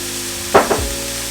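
Oil sizzles in a frying pan with a steady hiss, interrupted by two quick splattering bursts as something is added or stirred, then settles back to a constant close fry. No voices.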